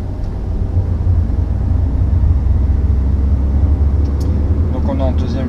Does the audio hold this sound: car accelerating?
yes